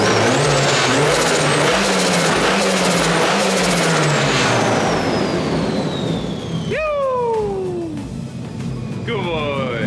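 A four-cylinder drift car engine revs loudly and continuously up close, its pitch climbing and falling in several sharp sweeps before settling into a rough, steady idle.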